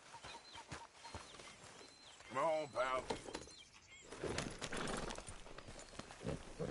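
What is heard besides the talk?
horse hooves clip-clopping in video game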